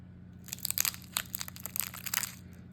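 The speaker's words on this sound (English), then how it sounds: "That nice crackle." Flaky Italian sfogliatelle pastry, crisp on the outside with a ricotta citrus filling, is crushed up close, giving a rapid run of sharp, dry crackles and crunches in quick bursts over a quiet background.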